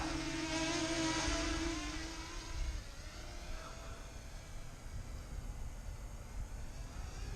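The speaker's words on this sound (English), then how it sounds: "I'll try and keep it kind of close so you can watch the activity of the drone" Drone flying close overhead, a steady buzzing propeller whine with a strong hum that is louder at first, then eases slightly as it continues without pause.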